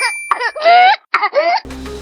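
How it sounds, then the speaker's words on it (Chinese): Whooping cough with a crowing, rooster-like sound: a run of close, drawn-out coughs with high, strained whooping tones, a short gap, then another long coughing spell. "这种像鸡鸣的声音，而且每次咳嗽时持续的时间很长，"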